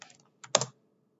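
A few quick keystrokes clatter on a computer keyboard during HTML coding, a light tap or two and then a sharper cluster of clicks before silence.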